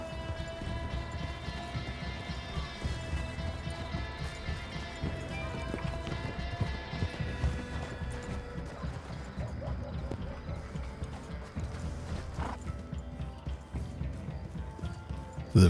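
In Red Dead Redemption 2, horses gallop with a continuous rhythmic clip-clop of hooves at moderate volume, over a game music bed with sustained tones, without speech.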